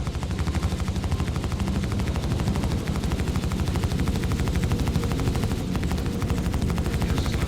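Rapid, continuous bursts of ship cannon fire from a Star Citizen space battle, loud and close, pounding in a steady rhythm throughout without pause.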